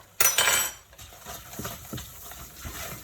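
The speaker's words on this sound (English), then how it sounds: "We're then going to add in the 2 tablespoons of tomato puree and stir." A metal utensil stirs tomato puree into a thick enchilada sauce base in a pan, opening with a sharp clatter of spoon against the pan, then softer intermittent scraping and clinks.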